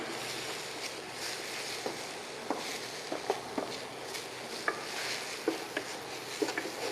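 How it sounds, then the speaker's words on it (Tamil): Capsicum, onion and spring onions being sautéed in a pan give a soft, continuous frying hiss with scattered light clicks and scrapes of stirring, fairly faint, with no talk. "குடமிளகாய், கொஞ்சம் வெங்காயம், இதுலேயே கொஞ்சம் ஸ்ப்ரிங் ஆனியன்ஸ் இதெல்லாம் போட்டு நல்லா வதக்குங்க"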